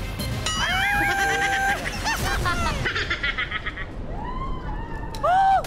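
Several wavering goat bleats, fairly close and loud, with a brief burst of laughter-like noise partway through.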